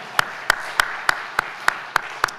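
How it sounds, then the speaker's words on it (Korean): Rhythmic unison clapping from a church congregation at a Sunday morning worship service, eight evenly spaced sharp claps over a steady room hum, with no voices. "우리 은혜 베푸신 하나님께 영광의 박수를 드리겠습니다."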